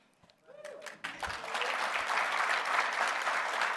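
An audience at a Women, Peace and Security anniversary event breaks into applause for staff colleagues; a few scattered claps and small noises first, then full clapping builds after about a second and stays dense and steady.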